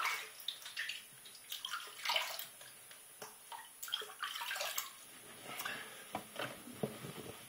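Water runs and splashes in a bathroom sink as someone rinses their face after a shave, a close, steady trickle broken by irregular splashing bursts and drips, with no voices.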